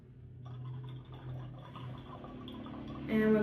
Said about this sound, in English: I can hear it flowing down into the bottom here. It's going to fill up the thermos.